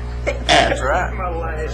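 A single sharp sneeze bursts out during a formal board meeting, loud and close, with people talking around it before and after.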